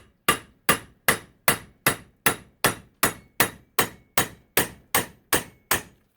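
A hammer taps a socket on a Yamaha YFZ450 quad engine crankshaft during a motor rebuild, giving about fourteen sharp, evenly spaced metallic strikes close to the microphone, each ringing briefly.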